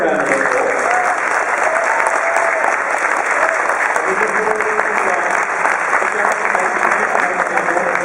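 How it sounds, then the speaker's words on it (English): Sustained audience applause at a fan convention Q&A panel with actress Mercedes McNab in Perth, steady and dense clapping filling the whole stretch with a faint crowd murmur beneath. "would you please give Mercedes an enormous round of applause?"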